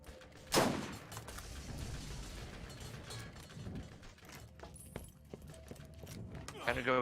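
Gunfire in Borderlands 1 opens with one loud close shot, then scattered fainter shots and mechanical clicks follow amid ambient game noise.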